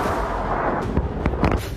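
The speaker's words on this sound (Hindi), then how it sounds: "बारूदी धमाकों से थर्राती बस्तियां" Artillery fire and explosions in the Afghan war: a continuous loud rumbling roar with several sharper booms near the end, heavy and dense throughout.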